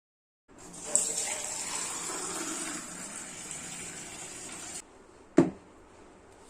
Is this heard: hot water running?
yes